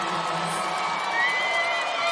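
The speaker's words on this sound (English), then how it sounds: "Stillwater fans making a lot of noise. So are the Hopkins fans." Basketball fans of Stillwater and Hopkins roar at a state championship game, a dense, sustained crowd wall of cheering and shouts with a swell near the middle, steady and loud throughout.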